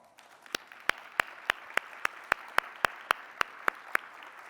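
Slow, evenly spaced claps ring out in a large meeting room as a faculty audience applauds standing editorial board members, about a dozen sharp hand strikes over a faint murmur.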